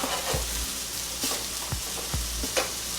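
Curry salmon fries in a hot skillet, a steady close sizzle broken by a few soft scrapes and thumps of a utensil against the pan.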